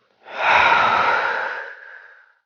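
Slow, steady breath exhaled through pursed lips during a guided diaphragmatic breathing exercise: one soft, airy whoosh lasting about two seconds that fades gradually, close and alone with no talking.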